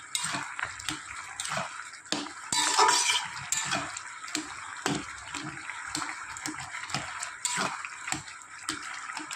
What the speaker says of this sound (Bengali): খুন্তি দিয়ে আলুগুলো এরকম একটু ঘেটে দিলে খেতেও ভালো লাগে।